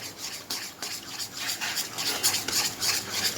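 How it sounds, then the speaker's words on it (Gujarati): Spatula scraping and stirring semolina sheera with sugar in a pan over a high gas flame, a continuous gritty rasping and scraping with repeated strokes, close and fairly loud, no talk. "કન્ટિન્યુઅસલી આ શીરાને હલાવતા રહેવાનું છે"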